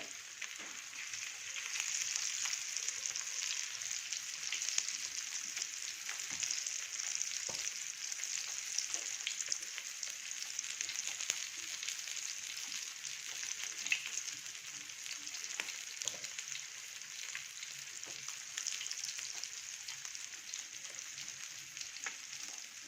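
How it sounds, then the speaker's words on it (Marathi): Masala-stuffed halwa (pomfret) fish fries steadily in a pan over a medium gas flame, giving a continuous close, even sizzle with faint crackles and no talk. "मीडियम गॅसवर ठेवलेलं आहे फ्राय करायला"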